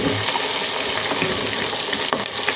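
Green chilies and onions fry in a pan for Andhra-style bagara rice, a steady close sizzle with light stirring and no voices.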